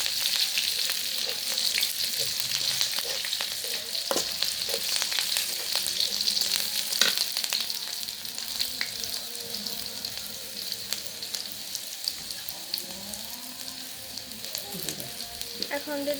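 Garlic fries red in hot oil with a loud, continuous crackling sizzle close by, dotted with small pops and the occasional light scrape of a spatula. No one speaks.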